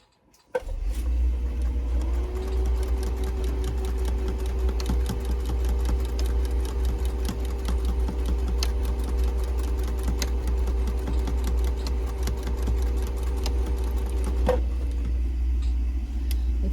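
Sewing machine darning a worn patch on a pair of jeans, running steadily at close range with a constant motor whir and rapid needle clatter, stitching forward and back without pause for the whole stretch.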